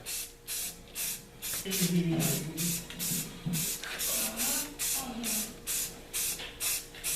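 A spray can paints a welder's third hand orange in a shop, a series of short hissing bursts in a regular rhythm, close and fairly loud, with a faint voice murmuring under part of it.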